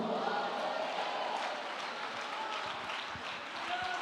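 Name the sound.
congregation applauding in church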